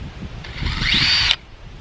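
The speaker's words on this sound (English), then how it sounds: "I have a 2x4, so I'm gonna drill 3 holes." A single short burst of a power drill whirring up and biting into a 2x4 wood board for under a second, then cutting off abruptly.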